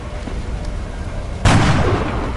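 A single gunshot fired in the turn-based strategy game XCOM: Enemy Within, one sharp loud burst with a short rumbling tail over steady background game ambience.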